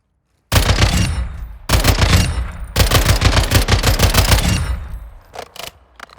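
Drum-magazine rifle in Call of Duty fires full auto in three loud, close bursts, the last one long and rapid, then tapering into a few trailing shots.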